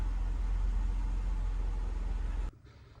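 A Jeep JK engine idles with a steady low hum for a few seconds, then cuts off abruptly, leaving near silence.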